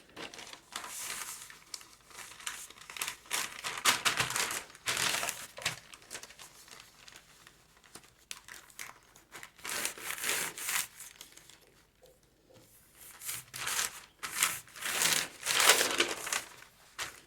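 Fabric for a blouse sleeve is folded and handled up close, giving repeated soft crinkling and rustling bursts separated by short quiet gaps, with no talking.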